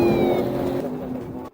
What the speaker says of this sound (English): a suspicious vehicle suddenly accelerated